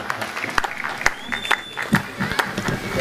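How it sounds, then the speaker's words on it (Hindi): An audience at an all-India mushaira and kavi sammelan in Jhajjar, Haryana applauds a poet taking the stage, with scattered, moderately loud clapping mixed with crowd noise and a voice talking over it. "जोरदार तालियों से इस्तकबाल कीजिए नईम अख्तर साहब का"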